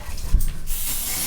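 Starch spray hisses onto cheap car boot sale curtains in one short close burst, loud and breathy, then fades.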